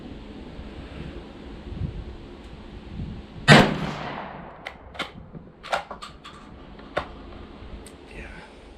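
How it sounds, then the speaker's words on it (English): A Savage 212 shotgun fires one sharp, loud shot near the middle, its report decaying into the air, followed by fainter clicks and mechanical clatter amid outdoor wind noise. "let's send some rounds through this thing again"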